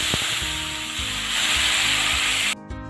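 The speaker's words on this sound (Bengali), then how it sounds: "মশলাগুলো ভাজার সময় একটু জল দেব," Ginger paste and ground spices frying with a splash of water in a pan for a Bengali koi fish curry, giving a steady, loud, close sizzle that runs without a break and then drops sharply near the end.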